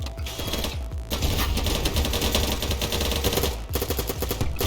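Rapid gunfire from a sniper rifle in a video game, dense cracking bursts filling the mix almost continuously, broken by a couple of short gaps, loud and close with no voices.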